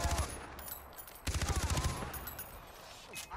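Bursts of automatic gunfire aimed at the player in the Far Cry 4 video game, a rapid rattling volley up front and a second dense string of shots partway through, close and sharp.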